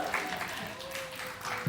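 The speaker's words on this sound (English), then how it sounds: "Let's also give a round of applause for hot stuff." Audience applause at a live comedy show in a skate bar, a steady wash of clapping from a crowd that runs throughout, with a faint voice mixed in beneath it.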